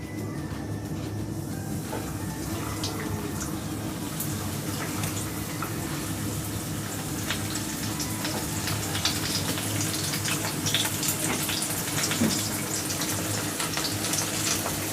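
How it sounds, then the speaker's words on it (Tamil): Pieces of popcorn chicken sizzle steadily in hot oil in a pan, a dense, continuous crackling hiss at moderate loudness with no pauses. "இப்போ இதில் ஒரு பீஸாக சேர்த்து நம்ம பொரிச்சு எடுக்கலாம்."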